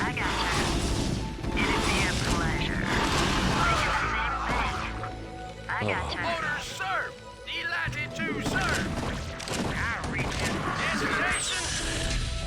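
Zerg units attacking a Terran base in a StarCraft battle, a dense, loud clatter of mechanical clanks, rapid gunfire and crashing explosions running continuously, with someone talking over it.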